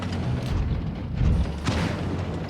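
Deep, booming tank cannon blasts in a tank video game roll out amid continuous rumbling battle noise, with a heavier thump in the middle and another shot toward the end.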